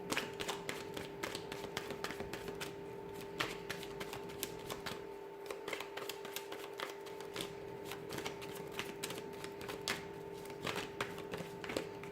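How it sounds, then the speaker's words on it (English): Tarot cards shuffled continuously, a steady stream of quick riffling taps and flicks at close range, with no talking over the sound. "So I'm going to give the cards a shuffle here"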